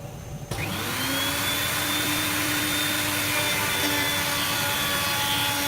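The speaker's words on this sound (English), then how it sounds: "What we've got set up in the router is a chamfering bit." A router table fitted with a chamfering bit spins up to a loud, steady high-pitched whine and holds it while shaping the edge of a wooden plinth, with no talking over it.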